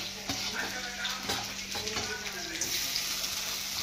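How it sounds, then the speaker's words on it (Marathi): Chopped tomatoes sizzle as they go into a frying pan while poha is being made at home, a steady hiss with stirring and faint clinks, and a steady hum underneath. "आता टाकतोय टमाटर."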